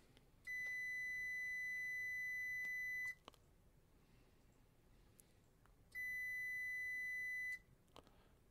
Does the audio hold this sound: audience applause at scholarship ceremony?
no